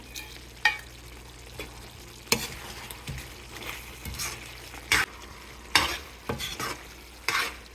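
Chicken chukka with dried red chillies is stirred in a sizzling pan, irregular scraping strokes of a spoon against metal over a soft steady fry, close and moderately quiet, with no talking.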